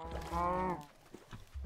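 A cow in the video game Minecraft gives a single clear, drawn-out moo, fairly close, followed by faint low game sounds.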